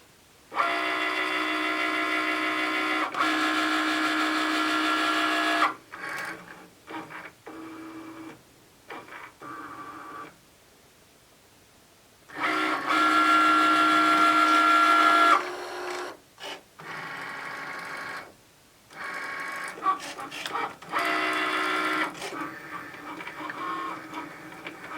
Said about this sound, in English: it's printed, we can head to the machine and cut our stickers.